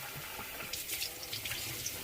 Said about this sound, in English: you have to wash the rice and make sure that it's clear